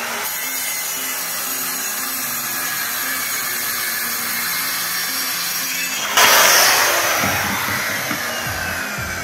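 A machine saw with a set guide cuts a wooden wardrobe panel, a steady motor whine that surges louder and rougher as the blade bites into the wood partway through, then eases off.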